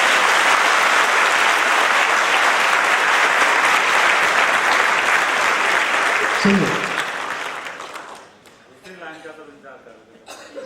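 Audience at a civil services guidance event applauds loudly in a dense, sustained ovation that fades over several seconds, followed by someone speaking.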